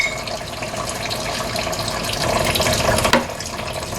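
Fluid runs steadily out of a 1970 Pontiac LeMans with a 461 Pontiac engine in a garage, a continuous splashing trickle, close and moderately loud, with a brief sharp clink near the end.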